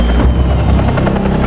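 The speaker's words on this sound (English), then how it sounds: "The overloaded helicopter lifts off" An overloaded helicopter lifts off from a rooftop, its loud, steady rotor thump and turbine roar filling the whole stretch at close range.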